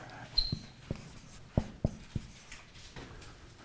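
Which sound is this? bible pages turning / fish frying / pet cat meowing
bible pages turning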